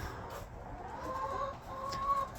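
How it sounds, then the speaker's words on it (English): Chickens in a backyard coop on an urban homestead cluck and murmur softly at a distance, with a few drawn-out calls rising over a low steady background hum. "The chicken parade."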